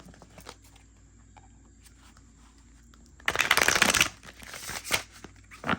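New, stiff, slightly slippery tarot cards being handled and fanned out, a quiet faint rustle at first, then a loud crisp riffling burst midway followed by softer flicks and slides.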